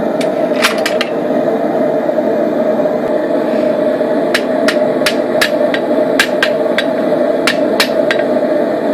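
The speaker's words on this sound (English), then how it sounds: "forge in a concentric pattern. Forge along the edge, up the middle, then round the back." A hammer strikes hot steel on an anvil during blacksmith forging, a run of sharp ringing metallic blows, close and loud, in irregular clusters over a steady roaring hum from the forge.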